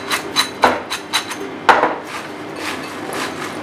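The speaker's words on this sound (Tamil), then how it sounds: "அப்படியே நல்லா சலசலன்னு சத்தம் கேட்குது. நல்லா கிறிஸ்பியாக பொரிச்சதுனால தான் இந்த சத்தம் வரும்." Crispy fried corn is shaken with chaat masala in a container, making a series of dry, close rattling bursts in uneven rhythm, followed by softer rustling.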